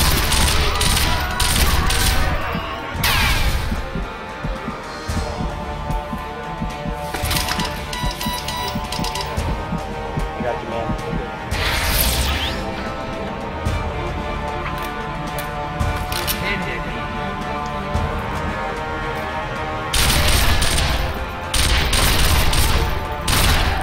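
Gunfire in the video game Sniper Elite V2, loud repeated shots and booming bursts over a dense, noisy battle soundscape lasting throughout.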